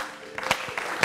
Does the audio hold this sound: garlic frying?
no